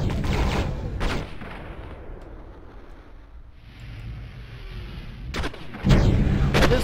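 Gunfire bursts from the first-person shooter video game Fire Warrior: sharp loud shots near the start and again toward the end, with a low rumbling, windy game ambience filling the quieter stretch between.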